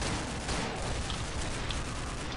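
Rapid gunfire from the online shooter Counter-Strike Online, with a World War II M1918 automatic rifle being fired. It comes as a dense, continuous burst of crackling shots at moderate loudness with no gaps.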